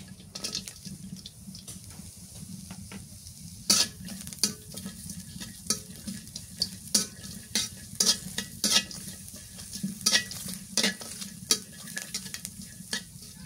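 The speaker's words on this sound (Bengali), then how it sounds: "পেঁয়াজ কুচি দিয়ে দিই এবার।" Onions sizzle steadily in a hot pan while a utensil stirs and scrapes, giving repeated sharp clicks over the constant frying hiss.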